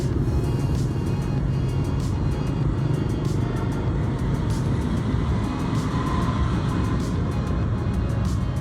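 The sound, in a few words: busy Saigon street traffic with cars and motorcycles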